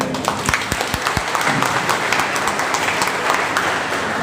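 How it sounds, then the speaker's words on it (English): Audience applause for a presenter at a Dewsoft Education Academy gathering: a steady wash of many hands clapping, with a few sharp, close individual claps standing out early on, and no talking. "Clap to Mr. Prem sir."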